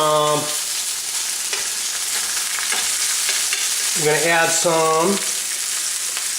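Ribeye steak pieces searing in a hot pan, a loud continuous sizzle that fills the clip, with a brief harmonic squeal near the start and again near the end, no talking.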